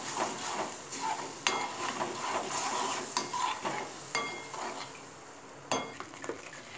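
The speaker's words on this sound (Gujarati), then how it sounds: "હવે બરાબર ચટણીને હલાવી દઈએ અને એને ચડવા દઈશું." Tomato chutney cooking in a pan, stirred with a utensil, giving a steady soft sizzle with scraping strokes and a few sharp clinks against the pan, close by with no talking.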